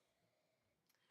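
A single short, high-pitched cough bursts out right at the end, close and fairly loud, after a long stretch of silence.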